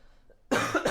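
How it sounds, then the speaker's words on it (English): A single loud, close cough bursts out abruptly after a near-silent stretch, with a rough, breathy rasp from a sick person. "Sorry about my cough"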